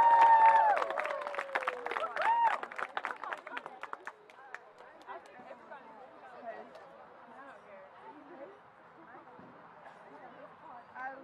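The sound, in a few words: applause for a high school senior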